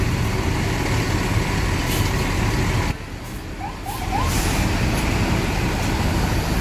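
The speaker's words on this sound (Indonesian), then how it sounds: "bus melanjutkan perjalanan menuju ke Blitar" A Rosalia Indah intercity bus drives toward Blitar, giving a steady, loud road rumble and engine drone that dips briefly midway before returning to full strength.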